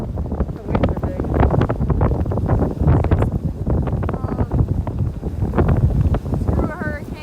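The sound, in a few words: strong wind and big waves during Hurricane Michael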